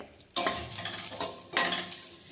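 Cucumber and green chilies frying with chana dal and urad dal for a chutney, giving a sizzle that jumps up abruptly, then crackles with stirring and swells again partway through.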